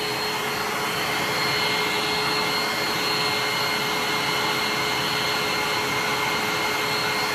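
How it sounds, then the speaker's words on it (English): A hair dryer drying paint blows with a constant loud whooshing roar and a steady high whine, running without pause from start to finish. "I apologize for the loud noise from the blow dryer"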